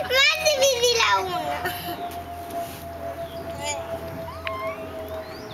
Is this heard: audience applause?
no